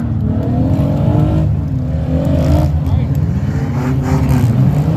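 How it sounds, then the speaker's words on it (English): A demolition derby car in the windshield class fires up again and revs, its loud rough engine rumbling and surging continuously while an announcer talks over it. "Josh Crowder trying to refire his car"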